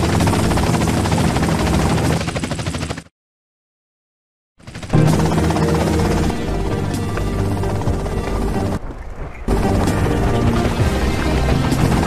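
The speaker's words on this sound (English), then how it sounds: "that's them and the chopper." Helicopter in the video game GTA San Andreas, a steady loud rotor and engine drone with a brief silent gap early and a short dip later, no talk.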